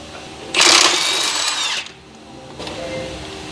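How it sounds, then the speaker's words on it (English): A power tool, likely an impact driver, loosens the 15mm bolts on a PT Cruiser transmission mount in one loud burst of about 1.3 seconds, followed by a quieter stretch of workshop sound. "And now you can remove the two 15mm bolts."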